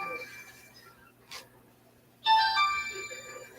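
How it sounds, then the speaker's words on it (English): A phone ringtone starts after a brief knock, a bright electronic tone pattern playing fairly close and clear in an otherwise quiet room. "That's my phone."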